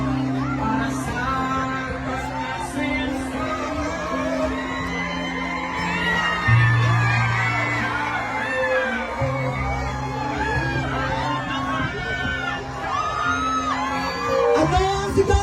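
A large political rally crowd at a speech by the Philippine vice president in The Hague, Netherlands, shouting, whooping and cheering continuously, loud and dense, with a public-address drone underneath.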